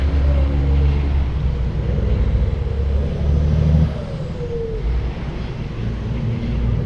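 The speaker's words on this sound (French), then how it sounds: "Il y a beaucoup de trafic de camions." Heavy truck traffic rumbles past along a road on a peninsula, a loud continuous engine roar with a brief hiss of air brakes partway through, no voices heard.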